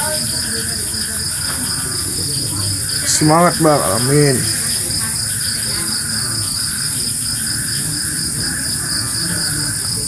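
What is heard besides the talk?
crickets chirping at night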